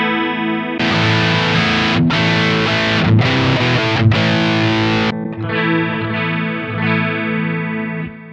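An electric guitar sounds through a GH Systems pedalboard, switching presets between heavy distorted tones and cleaner chorus-like sounds with abrupt changes and no audible noise between.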